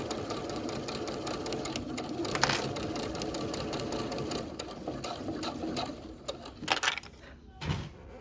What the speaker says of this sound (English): Do a straight stitch all the way down.